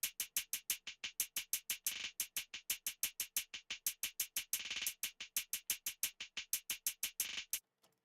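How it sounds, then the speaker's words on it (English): Layered hi-hats in a beat tick in a fast, steady stream of crisp metallic hits, with two brief sizzling open hats, fairly quiet and with no voices. "So like together these hi-hats sound like this."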